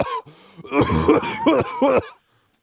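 A short burst of harsh, throaty coughing, several rough hacks in quick succession, close and loud, then silence.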